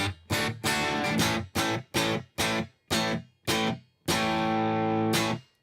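An electric guitar played through a Headrush unit with a short slapback delay gives a run of punchy, distorted chord stabs, each with a tight echo, ending on one longer ringing chord.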